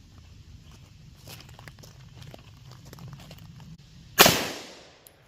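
A single loud gunshot from a short-barreled carry handgun rings out at an outdoor shooting range, a sharp crack with a decaying tail after several seconds of quiet background rustle.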